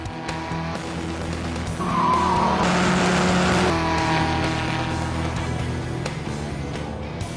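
Race car pulling back onto the track after a spin-out, its engine droning steadily while tires squeal and skid, swelling louder mid-way before easing off, with other car noise around it and no speech.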